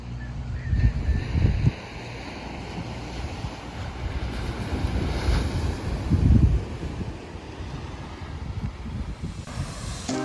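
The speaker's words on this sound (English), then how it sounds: "But it's still a really beautiful beach." Surf breaking against a rocky Bermuda beach with exposed rocks and little sand, a steady wash of waves with louder surges and wind buffeting the microphone, no talking.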